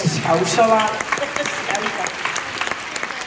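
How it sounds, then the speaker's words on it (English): Audience applause and cheering at a Comic Con Q&A session swell, starting under a voice and continuing as a steady, moderately loud patter. "Round of applause for that."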